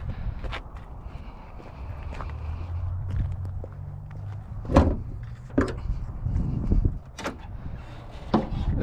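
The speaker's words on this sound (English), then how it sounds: "if we go in here and pop the hood real quick" Hood being opened on a Subaru Impreza GC8 rally build with a swapped EJ25 engine: a few sharp nearby clunks and latch clicks with shuffling footsteps, over a low steady hum.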